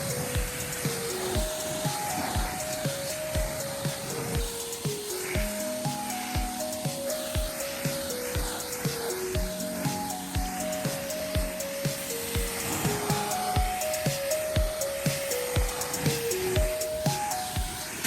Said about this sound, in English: I'm having a hard time power washing and holding this at the same time.